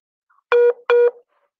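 Two short, loud telephone dialing tones in quick succession, clean and close, separated by a brief gap, as a caller is redialed during a live broadcast.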